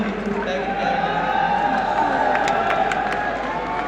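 An audience at a large RCM gathering cheers and applauds continuously, a dense wash of crowd noise with scattered whoops and claps, loud and sustained.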